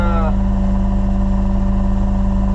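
A farm tractor engine runs steadily at a loud, close idle after field tillage, with a strong low drone that holds constant throughout, briefly joined at the start by a rising higher whine.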